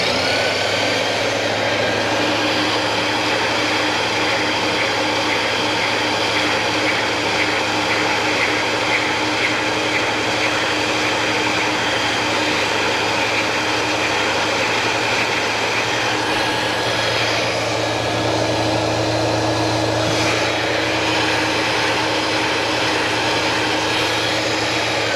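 A steady, loud mechanical drone with a whining motor tone runs throughout, a shop vacuum running alongside a grinder working plastic, with no talking.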